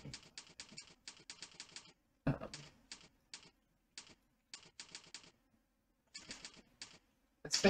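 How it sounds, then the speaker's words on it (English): Typing on a computer keyboard during a typing practice session: quick bursts of close, crisp key clicks separated by short pauses, with a heavier thump now and then, quiet and without voices. "It's very hard to talk and concentrate on typing at the same time."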